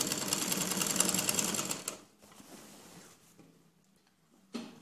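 A sewing machine stitches a designer one-piece jacket with a fast, close rattling run lasting about two seconds, then stops, followed by quieter handling noises and a brief restart at the end.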